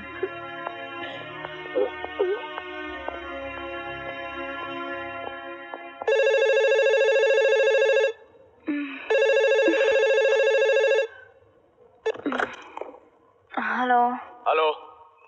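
A telephone ringing in a 1998 Hindi film scene, two long loud electronic rings with a short gap between them, followed by people talking.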